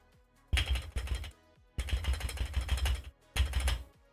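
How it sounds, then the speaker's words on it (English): Clicky mechanical keyboard keys clatter in three quick bursts of rapid typing, close and crisp, with short pauses between them. "because I got a clickety-clackety keyboard"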